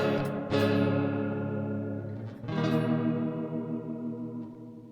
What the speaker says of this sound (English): So it sounds like a fairly heavy chorus is blended into that.